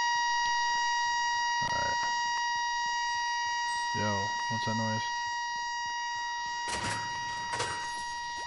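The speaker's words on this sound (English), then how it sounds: "Do you hear that beeping too?" A steady beeping alarm from a PS4 video game runs continuously through the whole clip as a string of even, sustained tones, while voices talk over it in short bursts.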